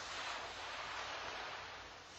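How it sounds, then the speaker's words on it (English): Ocean waves wash steadily onto a sandy beach among rocks, a soft continuous surf hiss with gentle swells and no voices. "Watching the waves ebbing and flowing effortlessly between rocks and gliding smoothly over the sand"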